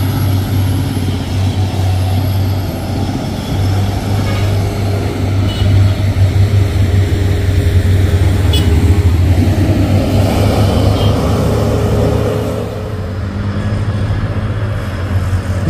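Two Hino trucks labour uphill with a loud, steady diesel drone and low rumble that swells and then eases slightly near the end, close by, with no voices.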